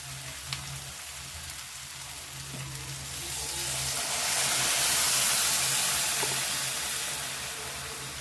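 Water poured into a hot pan while making upma sets off a loud, rising sizzle and hiss of steam that swells, peaks and slowly fades, with no talking.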